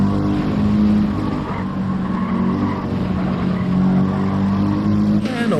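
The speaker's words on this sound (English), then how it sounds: "And let's get on board with Monik. Let's see, is that Lamborghini that fast through the corners or on the straight?" A Lamborghini race car in a sim racing game at Lago Maggiore roars loudly with steady engine drone and tire squeal through corners, with no talk over it.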